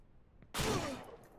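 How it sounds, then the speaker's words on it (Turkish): One sharp gunshot rings out in the Ranch Simulator game, loud and sudden, with a short trailing echo that fades over about half a second and no voices over it. "Ya bak yine beni vurdu ya"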